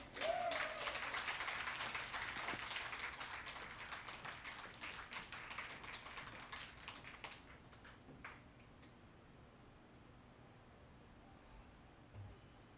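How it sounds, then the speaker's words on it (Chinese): Live audience applause at a Tiehua Village concert welcoming singer Tseng Shu-chin, loud scattered clapping that gradually thins out and fades to quiet over about eight seconds. "那我们现在就掌声欢迎曾淑琴。"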